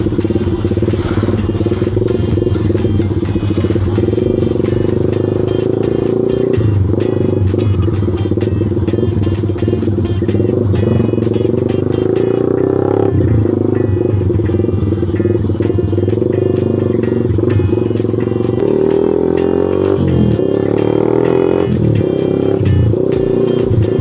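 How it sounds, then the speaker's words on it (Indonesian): A big motorcycle engine rumbles loudly and close on a city street, a steady throbbing roar with brief rises in revs and passing traffic, without talk. "Lumayan gede motor itu."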